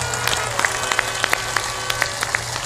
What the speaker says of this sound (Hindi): एक बार खड़े होकर प्रणाम करें और सब लोग ताली बजाकर उनका सम्मान करें।